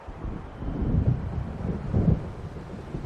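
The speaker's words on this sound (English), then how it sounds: "It seems there's a storm coming." Low, rolling thunder from a storm over the sea in the video game Alan Wake Remastered, two deep rumbles swelling about a second apart over a steady windy, rainy wash, with no talking.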